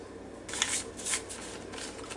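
Cold stick of butter being cut into small pieces for buttermilk biscuits, a few soft knife strokes and taps on a board, close and fairly quiet with background hum.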